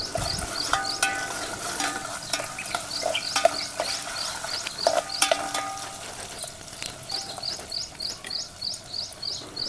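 Chopped onion pieces frying in a pan for a traditional gongura curry, a steady sizzle with repeated scraping stir strokes, close and moderately loud, no talking.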